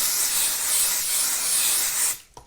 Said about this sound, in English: I'm just going to apply a little bit of 505 spray